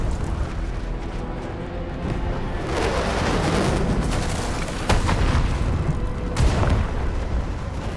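A UWST artillery strike in the video game Arknights Endfield rumbles as a sustained, dense roar of explosions and booming impacts, loud and continuous throughout with sharper bursts midway and near the end.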